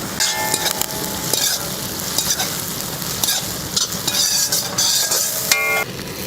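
Onions sauté in a large pan for a big batch of tomato rice, giving a continuous close sizzle and crackle with frequent scraping stirs of a metal spoon and no talking.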